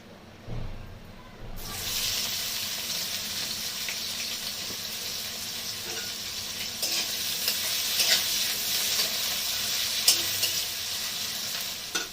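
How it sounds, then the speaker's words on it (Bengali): Chopped onions hit hot oil in a pan and sizzle steadily and loudly, with a broad hiss that holds for several seconds while the pan is stirred, for a Bengali pabda fish curry. "যে পেঁয়াজগুলোকে আমি কুচিয়ে রেখেছিলাম সেইগুলোকে আমি দিয়ে দিচ্ছি"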